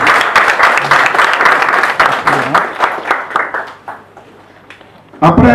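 A film festival audience applauds loudly at first, the clapping thinning and fading over a few seconds before a voice begins speaking at the close.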